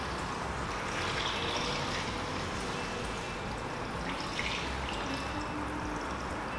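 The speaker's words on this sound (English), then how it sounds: "we're just going to top up with a little bit of cold water from the tap. Pour that all over there." Cold tap water pours over roasted beef bones in a pot, a steady continuous rush and trickle of liquid that holds at an even level throughout, with no voices.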